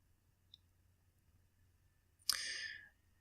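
A single sharp computer mouse click, quiet and close, then a brief breathy burst of noise in an otherwise near-silent room.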